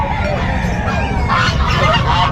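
Geese honk repeatedly at a busy outdoor pet market in Bocaue, loud, nasal calls overlapping amid crowd noise and other fowl.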